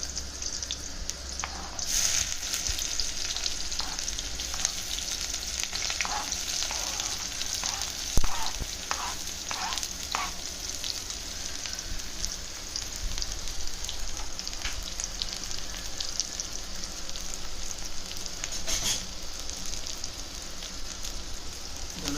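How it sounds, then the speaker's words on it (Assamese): Chopped onion fries in hot oil with a soft continuous sizzle, a scattering of light clicks and scrapes, and one sharp knock midway, heard close and alone. "পিঁয়াজটো অকণমান ব্ৰাউন হোৱালৈকে অকণমান এনেকৈ ফ্ৰাই কৰিম"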